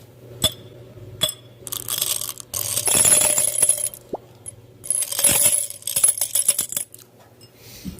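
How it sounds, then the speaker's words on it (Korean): Small hard candies rattle and clink into an empty glass bottle in several bursts, sounding like dropping coins, with sharp scattered impacts and quiet gaps between pours. "약간 동전 떨어지는 소리가 나요."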